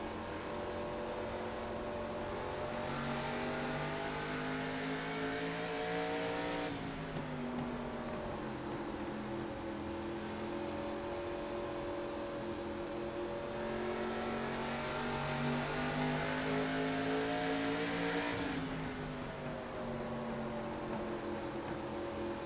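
A race car engine heard from an in-car camera in an ARCA racing video game, a steady droning whine that drops in pitch twice as the car lifts and then climbs back up, with no talk.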